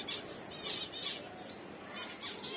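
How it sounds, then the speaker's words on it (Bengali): Pigeons take flight, wings flapping in several quick bursts of fluttering, fairly faint and at a short distance, with soft chirps mixed in. "আর কবুতরগুলো উড়াচ্ছিলাম"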